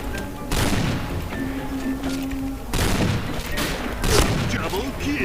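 Gunfire and booming explosions in the online shooter Point Blank, sniper-only match, loud sharp shots and blasts scattered across the moment with a steady game background, under a player's casual talk.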